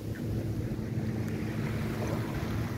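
A traditional Thai long-tail boat on the water near Phi Phi Island gives a steady low engine drone mixed with wind buffeting and water wash, continuous and fairly close.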